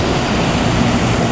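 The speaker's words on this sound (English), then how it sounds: "Oh, there's a plane." A plane flies over Hatton Cross, heard as a steady, loud broadband roar of aircraft engine noise that holds constant throughout the short moment, with no talking.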